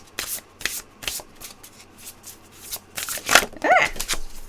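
A deck of cards is shuffled for an intuitive reading: a run of quick papery riffling bursts, close and fairly loud, with a short whining sound near the end.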